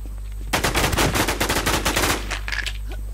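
Rapid automatic gunfire from a video game: a dense burst of close, loud shots fired in quick succession for about a second and a half, then a short trailing sound before it stops.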